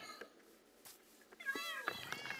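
Cats in the Minecraft video game meow in a short cluster of high, wavering mews, fairly close and moderately loud, with a voice speaking faintly beneath.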